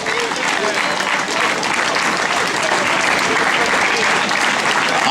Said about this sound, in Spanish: Máis finais e máis aplausos